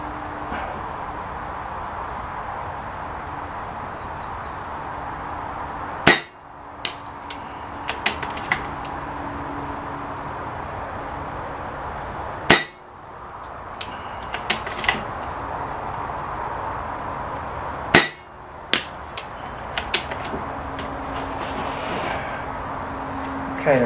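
Three sharp rifle shots fired at targets 92 yards away, spaced about six seconds apart, each followed by clicks and mechanical handling sounds over a low steady background hum.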